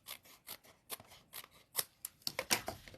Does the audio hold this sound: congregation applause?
no